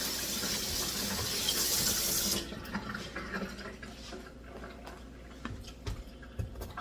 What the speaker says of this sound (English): Now this pepper, I'm going to give that a quick wash